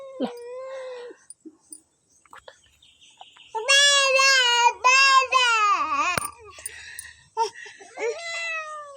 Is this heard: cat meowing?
yes